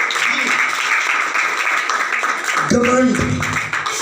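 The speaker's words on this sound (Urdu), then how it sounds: "زوردار تالیاں بجائیں خدا کے جلال کے لیے۔" Church congregation applauding loudly during a sermon, a thick steady roar of clapping in a reverberant hall, with voices rising near the end.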